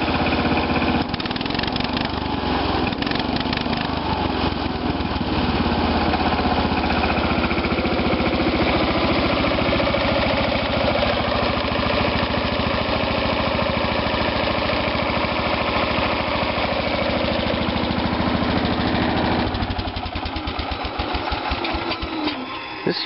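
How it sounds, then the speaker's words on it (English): A garden tractor's Kohler K340 engine idling and shaking hard, a loud, continuous rattling drone with a steady vibrating pulse that runs unbroken for over twenty seconds, roughening near the end. "This tractor shakes like crazy even when it's, well, especially when it's starting up."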